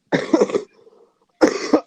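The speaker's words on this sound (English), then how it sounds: "He just has a cough." Two harsh coughs, close and loud, separated by a brief pause with a faint breath in between.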